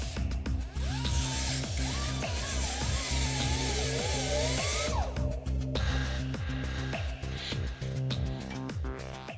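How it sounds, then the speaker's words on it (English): A power tool grinds and cuts through a metal clamp on the drive shaft of a Porsche Cayenne or VW Touareg, a steady loud buzz with rising and falling whine for about five seconds, then clanks and mechanical rattling. "We're going to cut the clamp out of the drive shaft"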